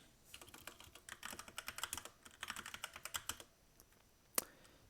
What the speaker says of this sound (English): Now I'll set a password for John